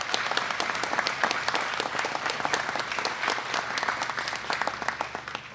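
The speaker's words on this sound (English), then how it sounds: "Give our farm industry a nice round of applause" A crowd at a Pennsylvania food bank event claps for the farm industry, with even, continuous applause at a moderate distance throughout.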